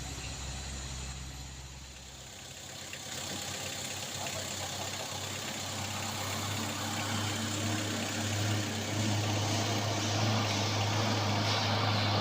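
A vehicle engine labours up a steep hill road, a steady close drone that deepens and grows slightly louder as it accelerates, with a hum holding underneath throughout.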